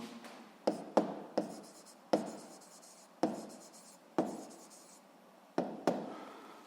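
Pen or chalk strokes writing out a physics equation, with sharp taps as each mark lands followed by scratchy drags, about ten separate strokes in an uneven rhythm, close and clear with no talking.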